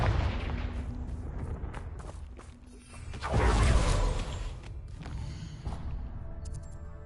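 A Confringo fire spell blasts in Hogwarts Legacy, a loud booming burst at mid-clip swelling out of a rumbling game soundscape with clanks and creaks around it, then easing back to a steady background.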